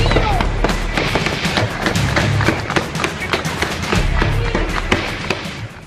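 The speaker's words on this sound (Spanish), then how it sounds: "Sentimos que se oyen unas detonaciones de armas largas" Long guns fire during an attack on the Supreme Court in Caracas, Venezuela. Dense rapid cracks and pops sound continuously at a distance, with faint voices underneath.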